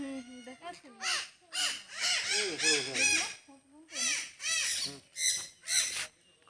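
Birds in a wildlife sanctuary on the bank of the Ichamati river give a run of loud, harsh, repeated calls, close by, in uneven bursts with short gaps between them.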